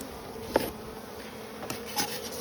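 Honeybees buzzing around a hive frame, a faint, close drone with a few brief louder passes and soft rubbing, no talking.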